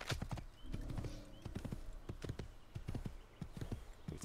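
Horse hooves clip-clopping in a steady galloping rhythm in Assassin's Creed, close and continuous over a low outdoor ambience, with a brief whinny-like tone.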